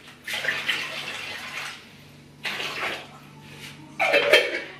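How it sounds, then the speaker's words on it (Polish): Water is poured out of a sturdy glass jar filled to the lid, in three separate gushing pours with pauses between them, close and fairly loud with no talking. "Zalany jest wodą do samego, pod samą pokrywkę, więc spuszczamy połowę."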